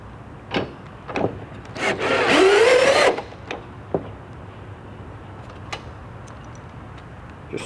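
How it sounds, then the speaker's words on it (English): Screws driven with a powered driver into pre-drilled holes in a greenhouse window profile, a short whirring burst with rising pitch amid scattered clicks and taps, close and otherwise quiet. "Just screw right down"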